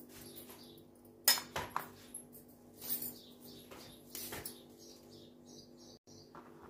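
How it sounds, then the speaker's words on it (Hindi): A knife chops fresh green chillies into small pieces for a baingan sabji, giving a few sharp, irregular taps and clicks against a quiet kitchen background. "तो ये हरी मिर्च को भी मैं छोटा छोटा ऐसे ही इसके अंदर काट लेती हूँ"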